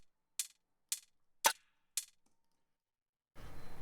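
Programmed beat of four sharp, evenly spaced percussive hits with the third one heaviest, separated by silence and followed by a burst of dense noisy sound.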